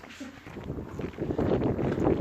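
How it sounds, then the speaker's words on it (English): Gusty wind buffeting the microphone at a holiday park near Looe, Cornwall, a low rumbling roar that swells and grows stronger toward the end. "It's very windy. Be warned. You may not hear me"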